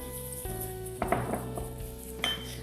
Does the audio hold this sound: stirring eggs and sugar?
yes